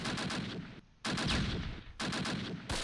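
Rapid machine-gun bursts from the Close Combat war game rattle loud and close in long, fast volleys, separated by brief pauses.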